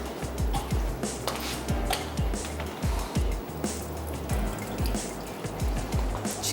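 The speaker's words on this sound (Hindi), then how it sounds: "उसका जो पानी है वो निकाल देते हैं।" Water drains from soaked rice for kheer in a continuous liquid trickle with a steady rhythm of soft drips and gurgles, close and moderately loud, with no talking over it.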